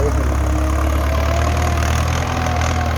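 A tractor engine idles loudly and close by, a steady low rumble with a faint rhythmic chug and no voices over it.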